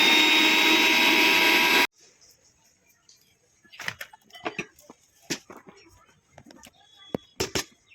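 A mixer grinder grinding fox nuts roars loudly and steadily for about two seconds, then stops, followed by scattered clatter and knocks.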